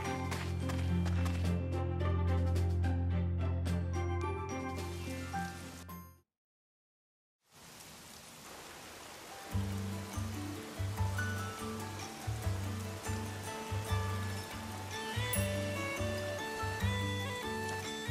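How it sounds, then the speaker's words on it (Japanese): Steady rain patters in the Atelier Sophie 2 video game beneath melodic game music, briefly dropping to silence before the music and downpour resume together. "この辺りはずっと雨が降ってるんだよ"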